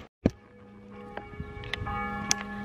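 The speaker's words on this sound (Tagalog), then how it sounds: "Tumunog na yung kampana dito." A church bell strikes at noon, beginning with a sharp clang and then ringing on with a long, humming resonance and a few fainter strikes, heard from nearby with no talking.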